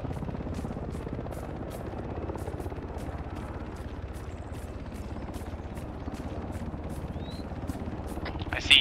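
In the military game Arma 3, a helicopter hovers near a roadside checkpoint in an Afghan setting, its rotor beating steadily and loudly throughout, with faint radio chatter beneath.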